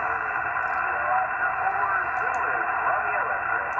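Rough single-sideband ham radio signal buried in constant hiss and crackling static, a garbled voice barely emerging through the band-limited noise, loud and continuous from a receiver speaker.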